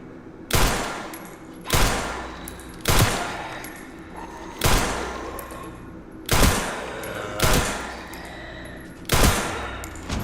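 Gunfire from Grace in the video game Resident Evil Requiem, seven loud, sharp shots spaced about every second and a half, each with a short echoing decay, with no talk over them.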